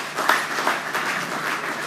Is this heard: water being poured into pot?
no